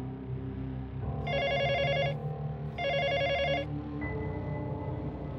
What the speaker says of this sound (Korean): 거실에 있는 집 전화가 울렸고